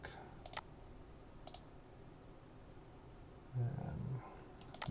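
A computer mouse right-click, a few faint, sharp clicks close by, spaced apart among quiet room noise, with a short low growl-like rumble toward the end.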